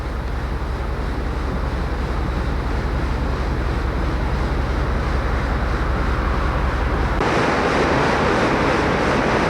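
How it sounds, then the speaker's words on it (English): Loud, continuous rushing of river water close by in Big Thompson Canyon, a dense steady roar that swells slightly louder near the end. "You can really hear the rushing of the water as we're right next to the river here"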